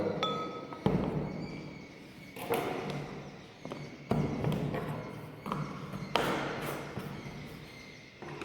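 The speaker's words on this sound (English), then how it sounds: "with the help of the glass rod we just stir it" Repeated clinks and taps of a glass rod stirring starch solution in a glass container, arriving in irregular bursts over a soft background rustle, with no talking.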